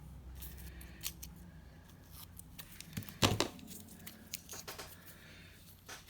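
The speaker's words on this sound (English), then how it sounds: "I'm going to cut down there, cut across there, and then cut across there." Scissors snip through paper for an autumn journal page. A few separate cuts come close and fairly quiet, with one sharper, louder snip near the middle and light paper rustling between cuts.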